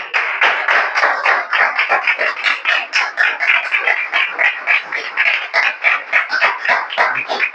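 A church congregation at a worship service claps in a loud, steady rhythm, many hands together filling the room without pause.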